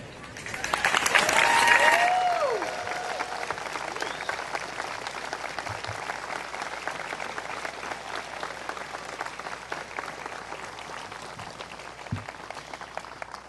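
A commencement audience applauds student veterans with a sustained roar of clapping, swelling briefly early on with a few whistles and cheers before settling into a steady, even patter that carries on to the end.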